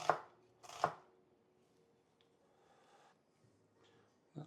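A knife chopping onion on a cutting board, with a couple of crisp knocks at the start and one more at the end, quiet and close, with near silence between strokes.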